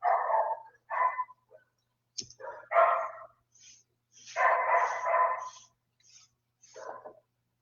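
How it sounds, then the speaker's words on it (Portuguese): Dogs bark at a home, several short, sharp barks in uneven bursts, near but moderate in level, with pauses of quiet between volleys. "Deixa eu só isso parar de latir, a gente continua falando."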